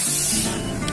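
A car radiator cap being opened on a cooled engine, giving one short, loud burst of spraying hiss that fades within a second.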